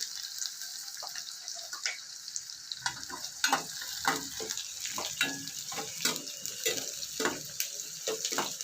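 Onions and two dried chillies frying in a pan for brinjal chutney, a quiet steady sizzle with repeated spoon scrapes and stirring clinks, close, no talk.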